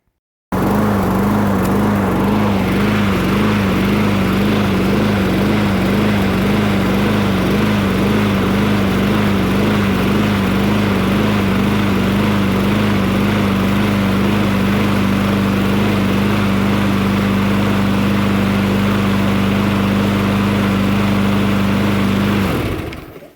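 A push lawn mower's small engine catches and runs steadily for about twenty seconds, a loud, even mechanical drone with a strong low hum and a faint rhythmic pulse, then cuts off at the very end.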